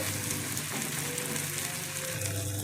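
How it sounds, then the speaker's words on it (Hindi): Gond, an edible gum, sizzles and crackles as it fries in hot oil for methi laddoo, a dense, steady frying hiss that stays close and even throughout with no talk. "ये देखिए बहुत जल्दी वो हो जाता है फ्राई"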